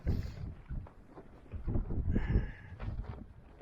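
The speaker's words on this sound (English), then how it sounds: "It's really windy." Strong wind gusts across open Dartmoor moorland around a wild-camping tent, a close, rumbling rush that swells and fades in uneven surges for a few seconds.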